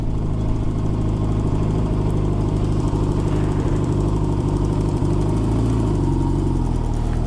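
A 1987 Honda Goldwing 1200 motorcycle engine runs with a continuous, loud, rumbling drone and small throttle fluctuations, with no voices.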